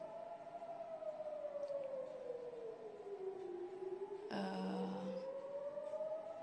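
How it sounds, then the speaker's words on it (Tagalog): A civil defense siren wails at night, its long tone sliding slowly down and then back up, steady and loud throughout, with a brief burst of other noise partway through. "Mula noong Sabado, ngayon lang ulit ako nakarinig ng sirena."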